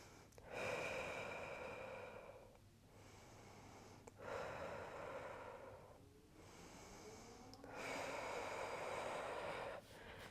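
Deep, slow breaths during an exercise session, three long rushing inhales and exhales in turn, close and fairly loud with short pauses between them.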